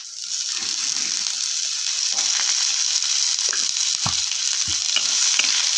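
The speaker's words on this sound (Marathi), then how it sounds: "लाल लाल रंग येतोपर्यंत आपल्याला कांदा भाजून घ्यायचा आहे" Onion fries in a little oil in a pan for Maharashtrian chicken rassa, giving a loud steady hiss and sizzle with intermittent low thuds and scrapes from stirring, close up and with no talking.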